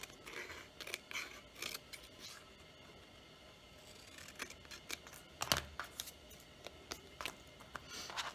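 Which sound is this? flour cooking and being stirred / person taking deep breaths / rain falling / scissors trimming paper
scissors trimming paper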